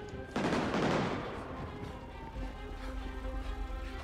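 Gunfire in GTA 5 breaks out in a loud rattling burst, then fades into a lower rumble and scattered, more distant shots.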